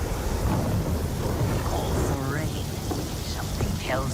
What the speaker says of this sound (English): she just made it start raining?